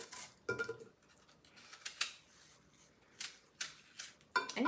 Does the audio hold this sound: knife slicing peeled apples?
yes